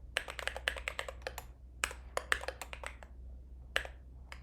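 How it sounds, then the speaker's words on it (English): Quick bursts of typing on a computer keyboard, close and crisp, with rapid clustered keystrokes, brief pauses and a final isolated tap over a low steady hum. "If I could type."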